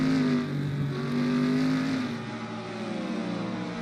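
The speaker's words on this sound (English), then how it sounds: "Lewis Hamilton as he is taking his first laps in a stock car" A stock car engine in a racing video game drones steadily through laps, its pitch rising and falling as the car accelerates, with no voices over it.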